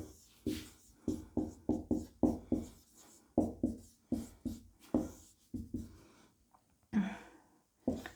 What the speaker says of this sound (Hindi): तो ये लिखते हैं यामिनी कृष्णमूर्ति के बारे में।